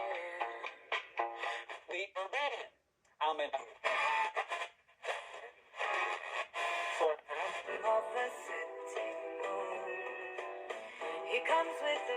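A Broksonic TSG-45 portable cassette player's built-in radio plays a tinny broadcast of singing and music through its small speaker, with a brief drop-out partway through and a thin, narrow-band sound throughout.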